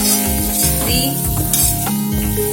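Spiced mashed potato for vada pav stirred in a hot pan, a loud continuous sizzle with repeated scraping strokes of the spoon.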